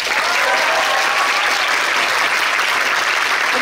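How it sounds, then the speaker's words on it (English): Dense, steady applause from a concert audience calling back a string ensemble for an encore, loud and continuous throughout without gaps. "can you give them a round of applause,"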